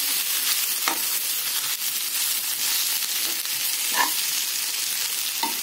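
Leftover chapati pieces fry in a pan and are stirred, a steady close sizzle with a few scraping stir strokes standing out over it.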